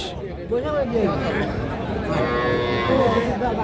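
Cattle at a livestock market in Ghoraghat, Dinajpur, where small bulls and heifer calves are sold, let out long, loud moos over a background of crowd chatter and voices.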